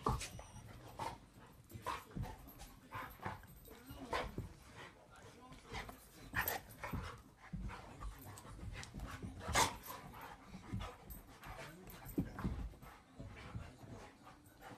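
Two playful dogs pant and whimper close by, with quick breathy panting, small whines and occasional yips, while people talk softly over the play.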